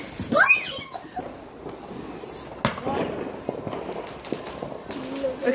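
New Year fireworks going off down the street, a whistling rocket then scattered sharp cracks and pops at a distance, with excited voices talking over them.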